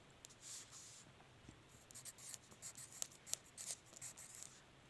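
Pen strokes of Pitman shorthand on paper, a faint series of short scratchy marks in irregular bursts, close and quiet with no voice over them.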